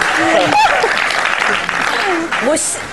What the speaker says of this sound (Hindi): इस सच्चाई में तालियां होनी चाहिए यार।